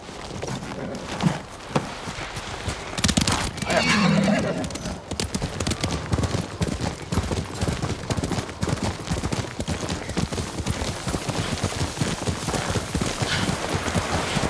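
Steady clip-clop of horse hooves with an occasional neigh in Ghost of Tsushima, voices talking over the trotting, and a brief louder burst partway through.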